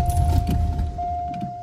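A 1981 Ford LTD Crown Victoria two-door barn find cranks on starting fluid poured into the carburetor, giving a close, loud, low churning rumble that eases into a steadier drone, with a faint jingle of keys and no talking.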